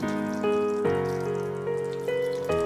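Hot water is poured into chicken curry in a pan, giving a steady pouring and trickling sound with ringing tones that shift as the liquid goes in, close by and without speech.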